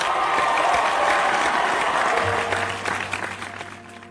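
A crowd bursts into dense, steady applause that holds for a couple of seconds, then thins and fades away toward the end.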